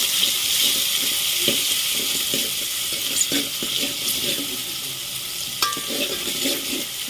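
Tomatoes being stirred into onions frying in hot oil, with a steady sizzle beneath scraping stir strokes and occasional knocks of the utensil against the pan, close and continuous.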